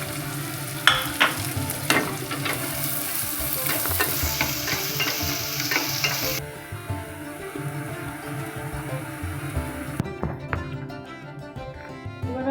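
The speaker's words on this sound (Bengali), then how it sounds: "একটু ভালো করে ফ্রাই করে নিলাম।" Chopped onion, garlic, green chili and ginger fry in a pan, crackling with a continuous sizzle while a utensil scrapes and stirs in short, irregular clinks up close.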